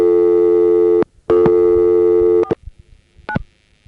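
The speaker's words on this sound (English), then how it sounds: "Those pulsing noises, plus this background buzz, are typical sounds of the GTE 102 director system." Loud telephone line tones from a GTE 102 director system in a step-by-step exchange pulse on and off in long bursts, then cut to a faint background buzz with a brief final click-tone.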